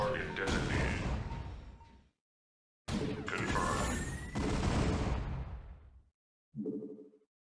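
Five Goliaths opening fire on a Carrier's Interceptor in a strategy video game, two dense bursts of rapid gunfire separated by a gap, then a short muffled blast at the end.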